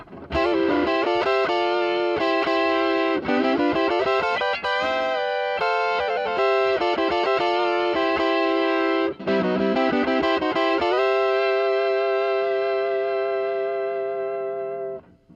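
Continuous distorted electric guitar lead with two added harmony lines from a DigiTech HarmonyMan pedal moving in parallel, dense and loud, notes gliding and sustaining to a long final chord.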